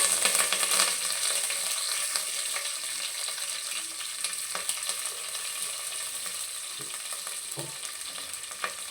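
Mustard seeds and curry leaves sizzle in hot oil for tomato rice, a loud, close, hissing fry with scattered sharp crackles and pops that gradually settles.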